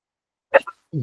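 A single short, sharp sneeze breaks the quiet of a school committee finance meeting room, followed moments later by a voice starting to speak.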